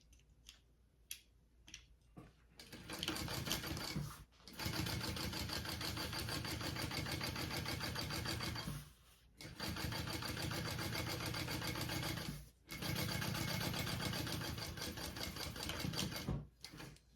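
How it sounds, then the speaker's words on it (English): Sewing machine top stitching along the base seam of a Belladonna crossbody bag, a few soft clicks, then long steady whirring runs broken by short pauses, close and alone. "we are going to top stitch along your base piece"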